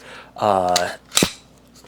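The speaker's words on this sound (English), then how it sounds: "you know the classic, squeeze, now the trigger is frozen, it doesn't do anything" A Glock pistol trigger clicks twice, sharp and close, during dry-fire practice at home. A short spoken word overlaps the first click.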